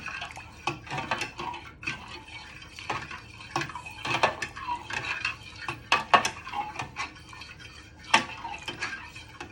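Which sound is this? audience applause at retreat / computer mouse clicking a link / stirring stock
stirring stock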